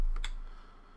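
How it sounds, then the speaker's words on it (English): Short, crisp user-interface clicks sound when letters are selected in a Boggle word game, two quick clicks near the start and another just before the end. "I want a clicking sound when you select a letter"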